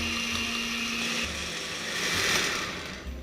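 A household blender whirs steadily while blending carrot cake batter, its motor drone holding fairly loud and even throughout, with a slight swell toward the end.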